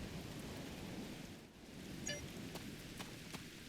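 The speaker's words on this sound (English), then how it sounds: "Wow, rain on Ryza." Steady rain in the Star Trek Online game, falling on the planet Ryza near a cave, a continuous even wash of drops with a few faint ticks, heard alone without voices.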